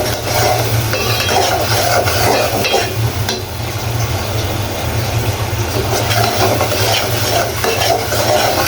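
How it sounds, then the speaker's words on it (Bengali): Spice paste being stirred and fried in oil for a snakehead fish curry, loud continuous sizzling with rhythmic scraping of a spatula against the pan and a steady low hum underneath. "মশলাটা আমার কষানো হয়ে গিয়েছে, উপরে তেল বেশি উঠেছে।"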